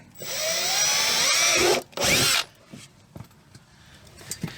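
A power drill runs loudly for nearly two seconds, stops briefly, then spins again in a short burst before a few faint clicks.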